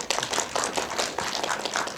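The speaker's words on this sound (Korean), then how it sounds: "큰 박수로 맞이하겠습니다" A small audience claps to welcome a guest at a Korean film screening talk event, a steady patter of many hands for about two seconds, moderately close and without voices.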